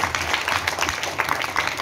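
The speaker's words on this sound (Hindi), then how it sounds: "तो ताली बजाए आपके लिए।" An audience claps at an evening event at Kilkari Bal Bhawan in Patna, a short burst of dense, steady hand clapping from a crowd in a hall.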